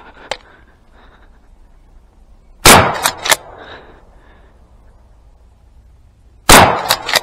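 Shotgun blasts while rabbit hunting in Minnesota: a loud, sharp report with echoing tail, then a second shot several seconds later, outdoors with a quiet background.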